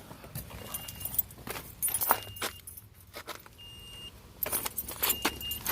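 Keys jangle in short metallic bursts at a car ignition, close and fairly quiet, several separate clinks and rattles with brief pauses between them.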